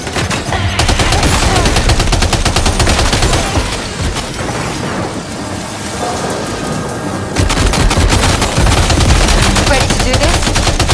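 Sustained automatic machine gun fire in the Death Stranding 2: On The Beach video game on PS5, loud and dense rattling bursts that run almost unbroken, briefly easing midway before surging again.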